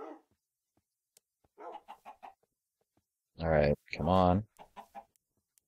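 Minecraft chickens give soft, scattered clucks in the game. A voice briefly speaks over them.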